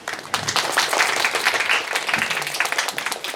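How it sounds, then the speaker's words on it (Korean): Audience applause at a Doosan Art Center press conference for a theatre program, a steady patter of clapping hands filling the room for a few seconds, with no speech over it. "박수 쳐주시니까 기분이 아주 좋습니다"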